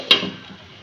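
A metal lid set down on a pan of stuffed tondli (ivy gourd) cooking over low gas, giving one sharp clink near the start that is followed by a faint, quiet simmer.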